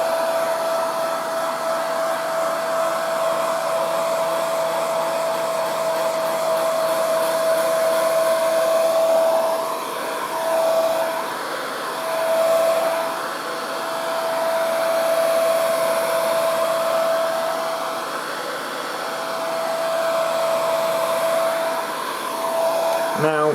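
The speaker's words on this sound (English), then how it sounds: "to speed things along, use a good old fashioned hairdryer. Gently wafting it." A hair dryer runs continuously close by, its steady whine swelling and easing as it is wafted back and forth over painted miniature terrain tiles, no talk.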